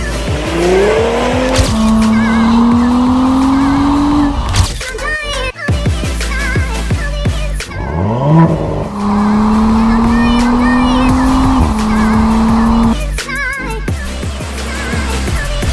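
An Audi S5 engine of 350 horsepower revs hard with rising pitch, then holds a steady drone, with gear shifts and tire noise between two long acceleration runs.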